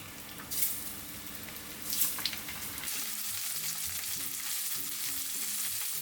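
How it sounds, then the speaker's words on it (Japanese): Horse mackerel shallow-frying in plenty of salad oil in a frying pan, a loud, continuous close sizzle and crackle with a couple of brief clinks early on. "フライパンに多めのサラダ油をひいて揚げ焼きにしていきます。"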